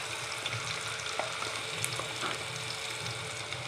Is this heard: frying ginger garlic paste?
yes